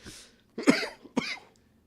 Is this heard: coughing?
yes